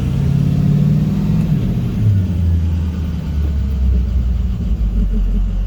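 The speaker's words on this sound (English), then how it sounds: "Ooh, I just heard turbo." A 2006 Ford F650 truck with a 6.0L VT365 diesel that lacks power under load idles and rumbles with a loud, steady low engine drone, and its turbo whistles briefly as a faint rising tone above it.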